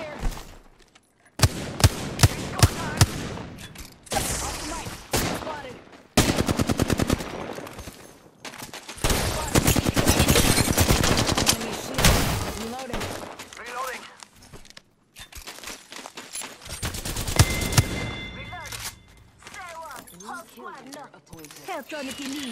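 Rapid automatic gunfire from a video game firefight, in dense repeated bursts with short pauses between them, with voices speaking over the shooting.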